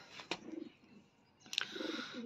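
Young wild pigeon chicks about six or seven days out of the egg make a few faint, brief soft calls up close, with short sharp noises between them in an otherwise quiet space.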